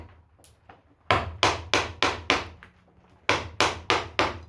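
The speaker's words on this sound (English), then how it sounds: "get in there with a chisel and rough it out like this" Sharp wooden knocks as a chisel is struck to rough out a wood carving against the grain, with a couple of faint taps and then two quick bursts of four or five evenly spaced loud blows.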